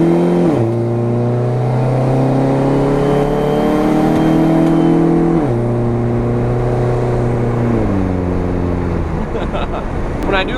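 A straight-piped SRT-4 PT Cruiser GT, not yet fully warmed up, pulls at half to three-quarter throttle, its raspy exhaust rising in pitch through the gears with brief dips at each shift, loud and close from inside the cabin.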